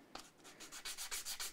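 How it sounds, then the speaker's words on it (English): Hand sanding the finish of a Cort G280 guitar with 400 grit sandpaper, a quick run of rhythmic, soft back-and-forth rubbing strokes, quiet and close. "It's time to start the sanding and polishing out."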